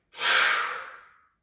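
A single long exhale during gentle yoga, a soft breathy rush of air that swells quickly and then fades out over about a second, close and alone.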